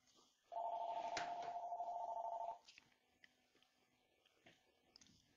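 A Snom D717 desk phone sounds a single steady electronic ringback tone lasting about two seconds as an outgoing call is placed, followed by faint clicks and quiet handling in a quiet room.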